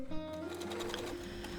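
Sewing machine overcasting a ruffle on a drawstring dress, a faint close whirring hum with a soft rapid ticking of stitches, brief and alone.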